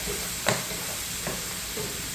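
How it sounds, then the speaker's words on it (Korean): Garlic scapes stir-fried in a pan on high heat give a steady, close sizzle, broken by a few soft scrapes of stirring, with no voices. "지글지글지글 나죠?"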